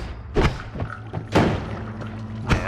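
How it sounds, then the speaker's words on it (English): Explosions go off in a streamed video game: three muffled, punchy booms about a second apart, each with a short low rumble behind it. "There's a lot of explosions going on here."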